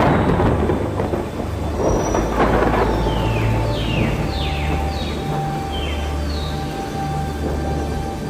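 Rumbling thunder rolls under steady rain in a cartoon story scene, with a few bird chirps and light ticking drops over the wash, loud and continuous throughout with no talking.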